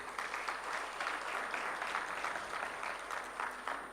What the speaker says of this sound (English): May we please give another warm round of applause?